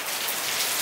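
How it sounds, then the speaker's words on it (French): Heavy rain pouring down on an outdoor parking lot, a steady dense hiss of drops striking pavement, loud and continuous with no voices. "Regardez la pluie."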